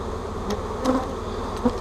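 Honey bees fly around and over the outside of a hive box, a continuous close buzzing hum with individual insects swelling louder as they pass near.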